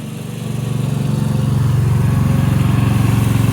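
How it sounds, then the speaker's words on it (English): A John Deere trap rake dragging a metal drag mat across beach sand in Ocean City, Maryland, its engine running as a steady, close, throbbing drone that swells slightly and settles into an even pulse. "That's a John Deere trap rake is what that is."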